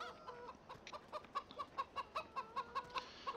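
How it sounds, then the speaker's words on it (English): Chickens in the Farming Simulator 17 video game cluck in a steady run of about a dozen short, evenly spaced calls at moderate volume, with no voices. "It's actually great to be able to see a full chicken walking around."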